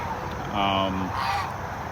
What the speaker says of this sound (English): these are the geese they're talking about, especially the white ones